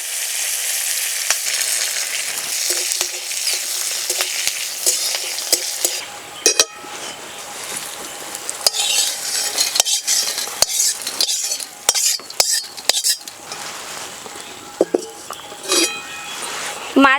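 Spices sizzling in a little hot oil in a wok, stirred with a utensil, giving a bright, close frying hiss broken by repeated clinks and scrapes against the metal.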